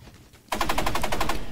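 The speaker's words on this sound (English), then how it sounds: "Gotta stand still, Nyrex, so I can shoot you." Automatic gunfire in the video game Energy Assault bursts in suddenly after a quiet moment, then carries on as a steady rapid stream of close, loud shots with no talking.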